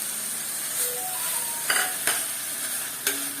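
Cooked potatoes being stirred into a sizzling pan with spices and kasuri methi for Konkani methi rice, a soft steady fry with several sharp spoon scrapes and taps against the pan.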